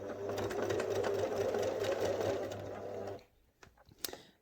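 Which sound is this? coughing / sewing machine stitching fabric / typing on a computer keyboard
sewing machine stitching fabric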